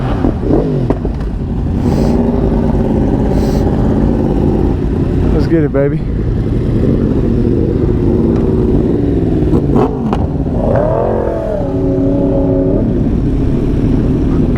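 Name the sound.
loud motorcycle engine revving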